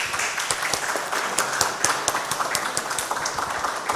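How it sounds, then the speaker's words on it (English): Webinar audience applause, a steady wash of many hands clapping with scattered sharper claps, moderately loud and continuous without talk. "let's give Professor Nobu big round applause."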